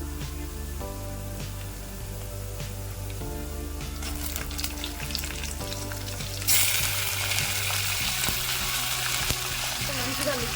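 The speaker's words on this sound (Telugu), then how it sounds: "ఇప్పుడు మనం కడిగి పెట్టుకున్న చికెన్ అయితే అందులో వేసేస్తున్నాం" Chicken frying with browned onions in a pan for chicken curry, a constant close sizzle with stirring that surges louder and brighter partway through, as if more moisture hit the hot oil.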